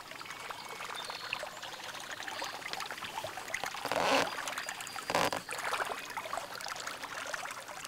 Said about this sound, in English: Look at the bubbles coming off that bait.